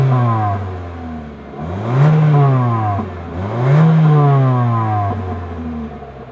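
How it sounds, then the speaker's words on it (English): A 2026 Mitsubishi Eclipse Cross with a single exhaust is revved twice near the tailpipe, each blip rising sharply from idle and settling back down, loud and close with no talking. "As always, here is that exhaust clip."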